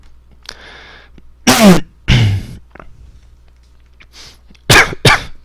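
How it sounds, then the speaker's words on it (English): Several sharp, loud coughs in two bursts, with quieter breathy sounds and a faint hum between them. "Sorry, I'm coughing a bit."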